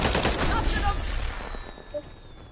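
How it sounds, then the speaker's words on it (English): Sustained automatic gunfire in a Modern Warfare III match rattles loudly, then thins and fades, with a player talking over part of it. "Getting shot in the back up top somewhere"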